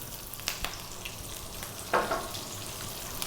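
Chopped onion, about a cup, sizzles in hot oil over above-medium heat for an Indian restaurant-style shrimp curry, a steady frying hiss with a louder burst of sizzle as it hits the pan, no voices.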